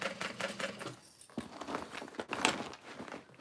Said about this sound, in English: You are sewing through that top accent piece